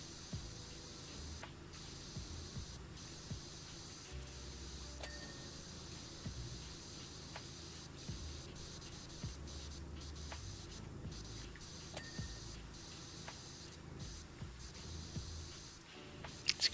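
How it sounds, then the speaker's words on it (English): Steady, faint spray hiss from a virtual pressure washer cleaning pillars without soap in PowerWash Simulator 2, running continuously with small clicks and no talking. "we are just all over the place with spraying here on these pillars, but doing it without soap"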